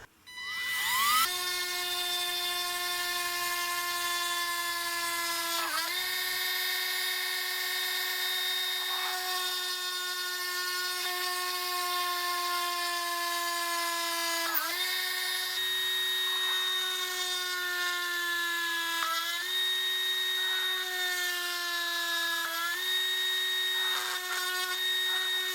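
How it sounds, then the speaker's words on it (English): An electric drill runs continuously at close range with a loud, steady high motor whine, its pitch dipping briefly several times as it loads, and no voices. "Oh, here comes the drill."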